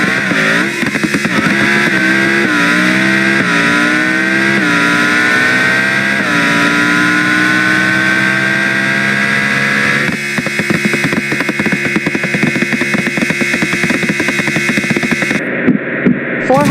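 A Ferrari in BeamNG.drive accelerating hard, its simulated engine revving up loudly through several gear shifts with rising whine, then holding a steady high drone with some crackling, close and continuous with no talk.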